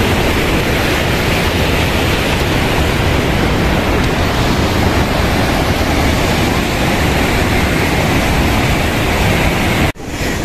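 A rushing mountain river roars loud and continuous, a dense, steady wash of water close by, with no voices.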